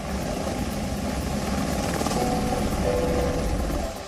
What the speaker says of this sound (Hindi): एक हेलीकॉप्टर के उतरने और दूसरे के उड़ान भरने के दौरान